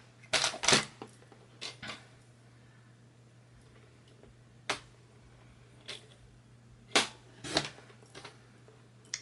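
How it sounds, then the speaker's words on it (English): A paper trimmer cuts card stock for a handmade clear-embossed greeting card, producing a series of sharp, brief clicks and snaps spaced irregularly, fairly close and crisp against a low steady hum. "we're going to get our trimmer again. I'm just going to cut this down."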